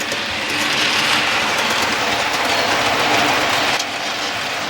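A Hornby class 47 model locomotive, number 47401, fitted with a TTS sound decoder, runs over freshly ballasted layout track, giving a steady close whirring rumble with faint rhythmic clicking and a brief dip near the end.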